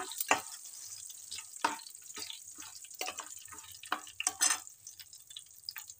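Green chilies fry in a pan, giving a soft sizzle broken by scattered crackles, pops and stirring scrapes, all fairly quiet and close.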